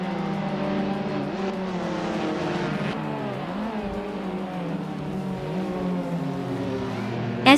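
Racing cars in a video game race at the Bikernicki circuit, including a 2014 Abarth 500 Assetto Corse, drone steadily with engine pitch rising and falling through gear changes, a continuous mid-level roar with no talk.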